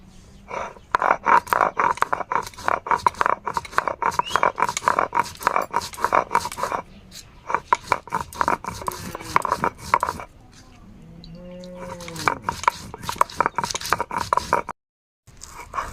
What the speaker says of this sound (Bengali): এখানে নিয়েছি কিছু গোলমরিচ তিনটা শুকনো লঙ্কা কুড়ি মিনিট মতো ভিজিয়ে রেখেছিলাম বেটে নেব একসঙ্গে